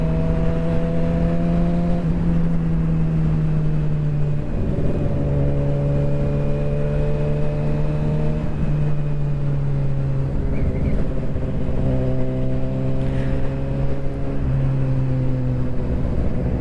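A motorcycle rides along a road, its engine droning steadily with repeated gear shifts as revs rise and drop, while wind noise runs underneath and a car briefly passes nearby.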